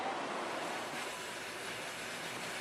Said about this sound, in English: Toot toot, as the train is coming out of the tunnel.